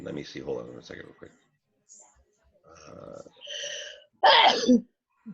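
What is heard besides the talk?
sneeze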